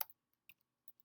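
A few crisp keyboard clicks, sparse and irregular, close and clear against silence.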